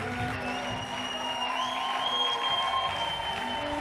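A church congregation applauds and cheers for God during a worship service, a steady wash of clapping and crowd noise with a sustained musical tone underneath, fairly distant.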